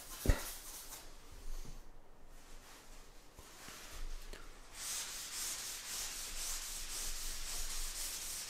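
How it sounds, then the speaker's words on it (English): A kitchen towel rubs over a charcoal drawing on paper to smooth the shading, giving soft, quiet scrubbing strokes that grow steadier and slightly louder in the second half, with no talking. "Smoothing it out with my kitchen towel."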